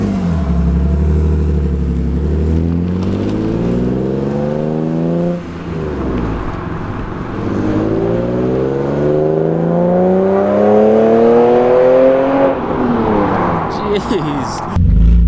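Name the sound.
BMW E36 M3 engine revving with Raceland headers, new exhaust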